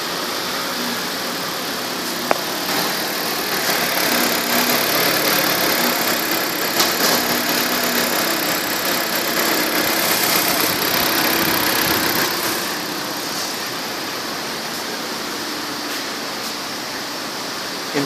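A 2009 Dodge Caliber engine runs in drive with a steady, fairly loud hum and broad hiss that holds evenly, easing slightly near the end, with no voices.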